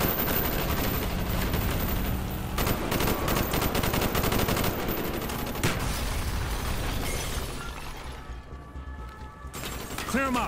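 Heavy automatic gunfire from a street fight in Call of Duty: Black Ops, with rapid bursts and overlapping shots sustained loud throughout, easing slightly near the end, mixed with mechanical clatter.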